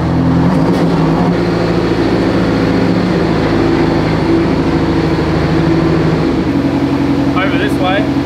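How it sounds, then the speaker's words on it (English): A heavy armoured vehicle engine runs loud and steady as the vehicle is maneuvered indoors into position, a constant low rumble filling the space with a faint voice near the end. "The boys first maneuver the vehicle into a position under the highest point of the ceiling"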